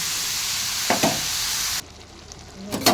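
Ridge gourd with salt, turmeric and cumin powder fries in a pan, a close steady sizzle with a couple of stirring scrapes, then quieter after a sudden drop, with a stir at the end.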